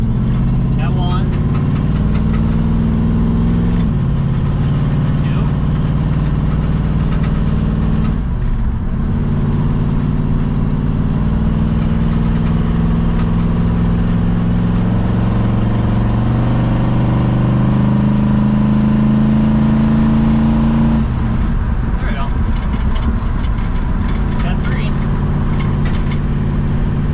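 An AMC Gremlin with a 360 V8 engine cruises along the road with a steady, loud low engine drone that shifts pitch at gear changes, continuous throughout.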